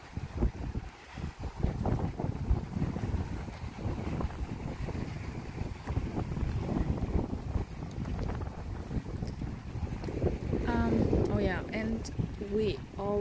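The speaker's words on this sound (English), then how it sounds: "just listening to the wind and just enjoying this whole stuff" Wind buffets the microphone with a constant low rumble and gusts on the IJsselmeer shore at Medemblik, the Netherlands, while people talk nearby and water-lapping sounds come and go.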